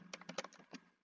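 Someone types a project name on a computer keyboard, producing a quick run of soft, close key clicks in an uneven rhythm over a faint hum.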